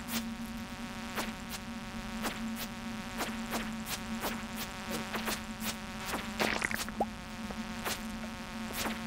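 Buzzing flies in Stardew Valley, a continuous insect whine over a low hum, with regular sharp ticks and a brief louder flurry of game effects near the end.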